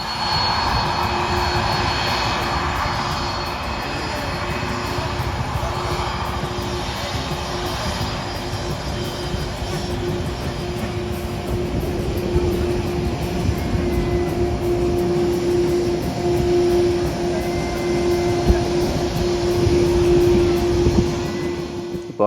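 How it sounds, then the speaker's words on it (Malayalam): A China Airlines jet takes off on the runway at Taipei Songshan Airport, its engines giving a steady, heavy roar with a sustained droning tone that swells slightly toward the end. No one speaks. "അവിടെ ചൈന എയർലൈൻസിൻ്റെ ഒരു ഫ്ലൈറ്റ് ടേക്ക് ഓഫ് ചെയ്യാൻ പോവുകയാണ്"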